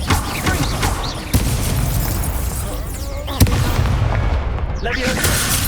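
Fiery spell blasts in Hogwarts Legacy, loud booming bursts amid constant combat noise, with sharp impacts punctuating a dense, rumbling mix while a voice shouts over it.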